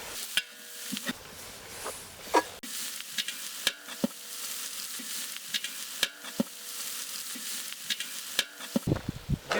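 Goat boti fries in a pan over a village cooking fire, a continuous close sizzle broken by regular sharp scrapes and knocks as the meat is stirred.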